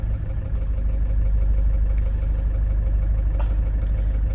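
A Hyundai Starex GRX van engine idles steadily with a smooth, even low hum and no knocking, heard close and continuous throughout with no talk.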